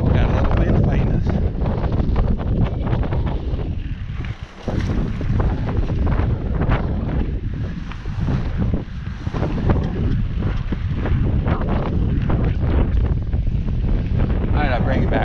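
Strong wind buffets the microphone on an outdoor riding trail near Mitchell, South Dakota, a loud continuous roaring rumble that barely lets up throughout.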